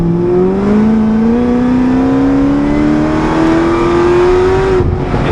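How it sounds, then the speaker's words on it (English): A loud supercharged Corvette ZR1 engine revs up steadily under hard acceleration in third gear, its droning pitch climbing smoothly for several seconds before easing off. "I'm going to drop it down into third gear and hit it real quick"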